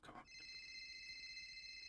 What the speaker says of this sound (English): I am getting so many fucking phone calls.